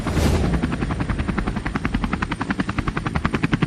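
A helicopter's rotor thumps in a rapid, steady beat, loud and close, after a brief whooshing rush at the start.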